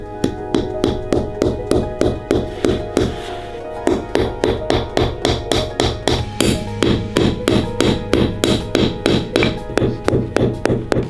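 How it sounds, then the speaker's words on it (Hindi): Steady series of hard knocks from a frozen banana used as a hammer in extreme cold of about -55 °C in Yakutsk, striking repeatedly in an even rhythm, loud and close, with no talking. "यहाँ के लोग जरूरत पड़ने पर जमे हुए फलों को हथौड़े की तरह भी इस्तेमाल कर सकते हैं।"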